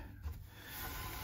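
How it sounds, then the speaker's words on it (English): Light sanding along the edges of the nut on an Epiphone Sheraton guitar, a faint, close rasping rub that grows gradually steadier and slightly louder over a second. "very lightly sanding the edges"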